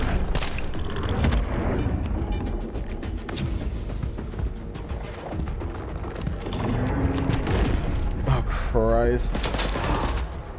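Heavy video game gunfire, dense bursts of shots and booms with mechanical clatter running throughout, loud and continuous, with a player's voice briefly heard over the battle.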